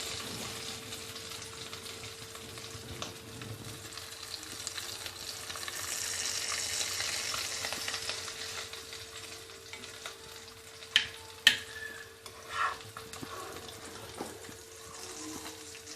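Potato cutlets (aloo tikki) fry in oil, a soft continuous sizzle over a low steady hum, broken near the end by a few sharp utensil clanks and taps.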